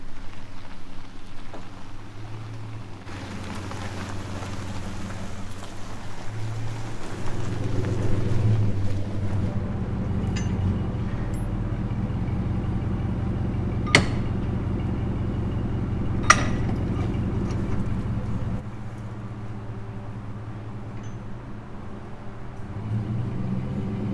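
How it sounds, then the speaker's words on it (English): A Ram pickup truck spins its tires in two-wheel drive, its engine rising into a loud, sustained rumbling roar for about fifteen seconds before easing back to a lower drone, with no voices. "You can spin the tires in two-wheel drive in a Ram."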